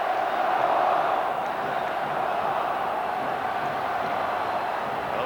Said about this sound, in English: And the crowd trying to spur the home team on here.